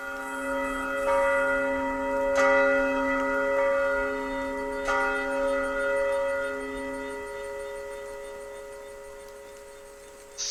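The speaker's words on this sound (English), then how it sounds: "sound of 12 bells strikes, and it's time to go" A church bell tolls midnight, with several resonant strikes ringing out at spaced intervals, each one leaving a long humming decay that gradually fades, and no voices heard.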